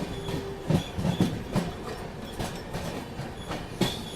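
Container freight train hauled by a WAG12 locomotive rolls past, giving a run of repeated wheel clicks and clanks over joints above a continuous rail rumble, fairly close and without talk.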